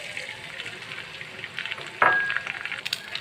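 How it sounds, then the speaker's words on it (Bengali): Beaten eggs frying with onions in cooking oil in a pan for homemade noodles, a soft steady sizzle close by with a brief sharp clink partway through. "তো আমার ডিমগুলো ভাজা হয়ে গেছে,"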